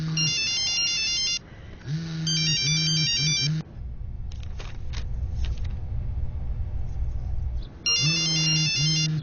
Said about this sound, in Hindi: अबे तेरा फोन बज रहा है